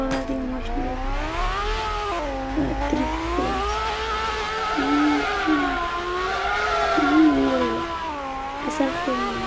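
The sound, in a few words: car driving and revving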